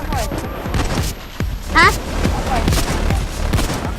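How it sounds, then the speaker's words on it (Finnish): Gunfire rattles in the heist video game PAYDAY 2, with repeated loud shots spread across the whole stretch under excited talk and game noise. "Siellä ammutaan."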